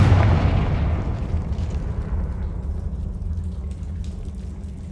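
A Confringo spell goes off in a video game as a loud, deep blast that swells at the start and then rolls into a long, rumbling boom, fading slowly over several seconds.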